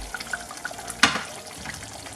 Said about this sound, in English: So at this point I'm just gonna add a little bit water, so then I could leave it to cook for longer.